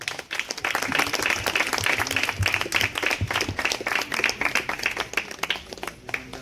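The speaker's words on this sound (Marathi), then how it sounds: "जोरदार टाळ्या झाल्या पाहिजेत" Lively applause from the audience at a book launch ceremony, many hands clapping in a dense, sustained burst that carries through several seconds before tapering slightly.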